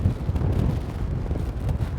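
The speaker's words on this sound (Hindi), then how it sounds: "बहुत तेज़ हवा चल रही है यहाँ पे" Strong wind buffets the microphone at the Ram Jhula footbridge over the Ganges in Rishikesh, producing a continuous, loud, low rumbling gust noise with no speech.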